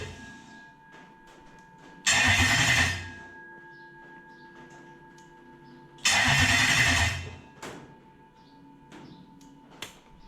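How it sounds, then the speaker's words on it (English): A Toyota 1UZ VVTi V8 fitted in a hotrod cranks twice on the starter, each burst lasting about a second, loud and close, with a quiet electrical hum between the attempts. "So with the fuel pump relays in, hit the start button."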